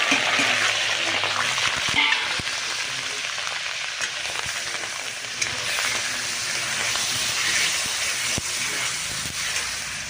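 Onion paste hits hot oil already seasoned with cumin and bay leaf for a soya chaap curry, giving a steady, close, hissing sizzle with occasional stirring clicks and no talk.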